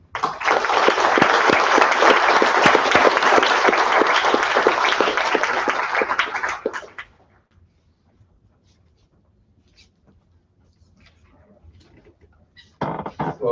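Lecture-hall audience at the University of North Carolina breaking into sustained applause for keynote speaker Dr. Brian Hainline, dense and steady clapping for about seven seconds before fading to near silence.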